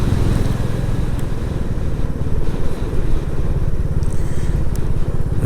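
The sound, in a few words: Royal Enfield Classic 350 motorcycle riding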